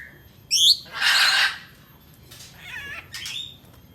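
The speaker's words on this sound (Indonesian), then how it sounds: "burung rambatan Doraemon" A rambatan Doraemon songbird calls in a few separate bursts: a quick high chirp, a harsh raspy squawk, then softer chattering notes and a final sharp call, near and clear against a quiet background.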